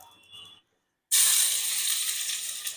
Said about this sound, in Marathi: एक पळी तेल टाकलं